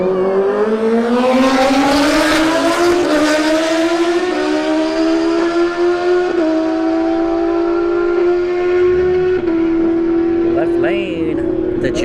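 Suzuki Gixxer 1000 motorcycle at a drag racing event, its engine a loud, steadily rising high-revving whine that holds for the full run, with crowd noise in the background.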